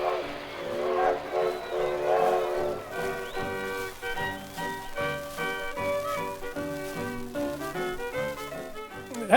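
A steam train chugs in with a rhythmic puffing beat while drawn-out whistle tones sound over it, moderately loud.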